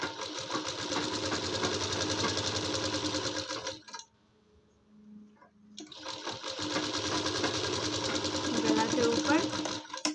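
A sewing machine stitches a young girl's kurti in two fast, steady bursts of rhythmic whirring, broken by a short pause in the middle.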